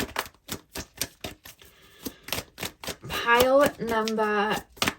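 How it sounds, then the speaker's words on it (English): Tarot cards being pulled from a deck, a string of crisp, close taps and flicks in an irregular rhythm, with a person talking over part of it. "So let's pull some more cards."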